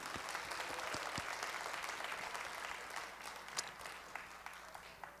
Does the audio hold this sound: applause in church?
yes